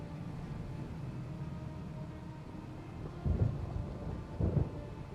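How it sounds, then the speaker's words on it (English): Rain falls in a city-building factory game, a constant soft patter with two deep thunder rumbles rolling in near the end, no speech over them. "A little bit of rain as we're making microchips that are totally exposed to the environment."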